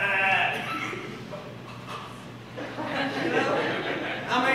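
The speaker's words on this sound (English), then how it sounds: "You ever heard of sheep?" Sheep bleat repeatedly at close range, wavering calls rising and falling across the whole stretch, with a person talking over them.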